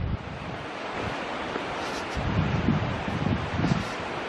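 Surf rolling onto a sandy beach on the Lincolnshire coast between Anderby Creek and Mablethorpe, a steady broad wash with a louder swell near the middle, mixed with wind buffeting the microphone, no voices.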